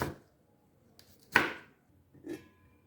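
A knife chops green beans on a board in a home kitchen: three sharp, separate cuts spaced about a second apart, close and fairly quiet, with silence between.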